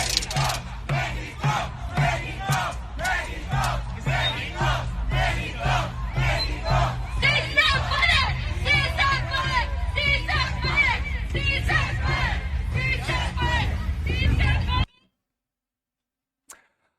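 A large crowd of protesters marching through the streets with Mexican flags chants and shouts loudly and continuously, voices overlapping with rhythmic cries before cutting off abruptly into silence.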